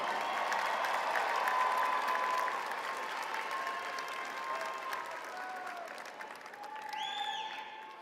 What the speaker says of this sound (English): give them a round of applause because you didn't get here alone.